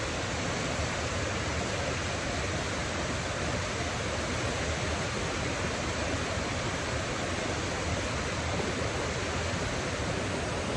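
A waterfall with water pouring over its edge, heard as a steady, dense broadband roar that stays constant and close throughout, with no voices.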